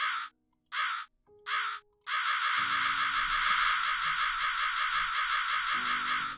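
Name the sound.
crow cawing in Rusty Lake Hotel video game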